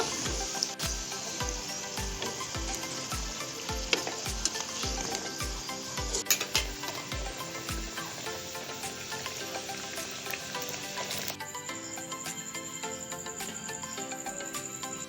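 Palm fruit samosas puffing up as they fry in hot oil give a steady, close sizzle and crackle, with a soft rhythmic thumping beat under the first half.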